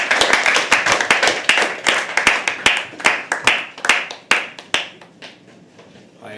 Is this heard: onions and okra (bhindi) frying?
no